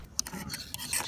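A metal lid scrapes and clinks into place on a small pot atop a BCB Fire Dragon camping cooker, a brief close rasping rub with a couple of light taps.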